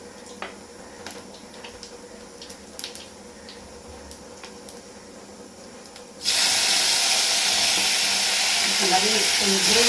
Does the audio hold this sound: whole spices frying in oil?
yes